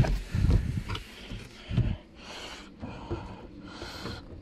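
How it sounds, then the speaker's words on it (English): Snorting, congested breathing through a clogged nose, close to the microphone, with a few heavy nasal sniffs and exhales followed by softer, raspy airy breaths. "Sorry for any breathing noises."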